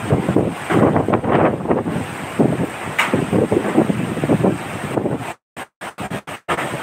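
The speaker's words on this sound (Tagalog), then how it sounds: "Napakalakas ng hangin." Strong typhoon wind roars and gusts in heavy surges, battering the microphone loudly and continuously before cutting out in choppy bursts near the end.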